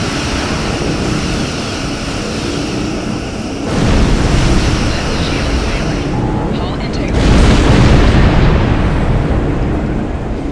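A starship explodes under fire in the Star Trek Online space game, a broad roaring blast that swells partway through and surges again near the end, loud and sustained with no talk over it.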